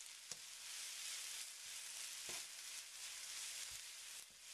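Onions with a spoonful of garlic fry in a pan for Korean jap chae, a faint, steady sizzle with a few soft taps of a utensil, no voices.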